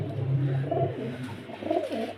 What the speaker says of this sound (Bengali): এইসব পায়রাগুলো সব যা আছে সব বাজির পায়রা খুব ভালো বাজি ওড়ান পায়রা